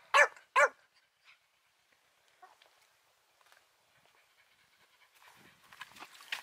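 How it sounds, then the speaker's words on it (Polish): Dogs cooling off in a backyard pool pant quietly through most of the stretch, after two sharp, loud yips or barks at the start, with splashing or movement noise building near the end. "I tak właśnie moje pieski się chłodzą"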